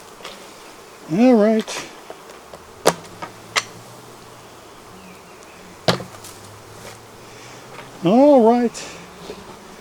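Honeybees in a strong, crowded hive make a steady low hum in the background, with sharp knocks and clicks from hive work and a man's brief spoken remarks.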